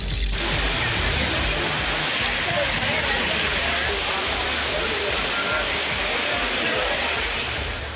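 Courtallam waterfalls in Tenkasi district, including Main Falls, Tiger Falls, Small Falls and Five Falls, in full flow: a loud, steady, continuous roar of rushing, crashing water, close and unbroken.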